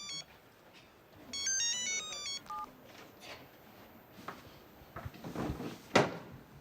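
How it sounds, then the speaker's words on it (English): A mobile phone rings in a women's public toilet, a bright melodic tone of rising and falling notes that repeats for about a second, followed by scattered clicks and knocks. "I know you know it is a phone. But it is ringing"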